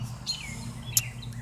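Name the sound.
small injured bird chirping on a trampoline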